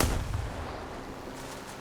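A P-39K's 37 mm cannon firing in War Thunder, a single heavy, close boom at the start that decays into a long rumbling tail.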